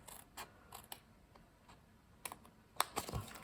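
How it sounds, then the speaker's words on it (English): Paper being cut along a score line while making an Easter egg basket, heard as soft, irregular clicks and crisp snips from close by, spread over several seconds with a sharper cut near the end. "Now we're going to cut at that first score line."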